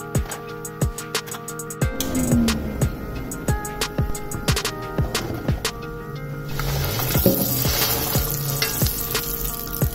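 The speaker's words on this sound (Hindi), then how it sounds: "एक दफ़ा ये मैंने फ्राई कर लिया है, ज़्यादा गोल्डन ब्राउन इसको नहीं होने दिया अभी, तो इसको अब दूसरी शिफ्ट में मैं दोबारा से डालूंगी।" Korean chicken pieces dropped into hot oil for a second fry, giving a loud, crackling sizzle with many sharp pops and spatters that grow denser toward the end.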